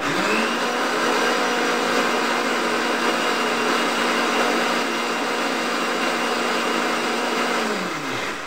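Mixer grinder running steadily as it grinds spice paste in a home kitchen, a loud even whirring drone that holds for several seconds and winds down slightly at the end, no talking.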